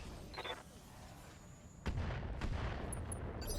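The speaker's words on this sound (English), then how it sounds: "we're going to drop artillery on this Panther" Salamander mech firing standard artillery in RogueTech, a couple of sharp booming blasts followed by a rumbling roar, over game background noise.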